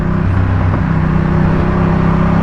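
A Ducati Diavel motorcycle engine with a Zard exhaust runs loud and close with a steady, throbbing low rumble that holds constant throughout.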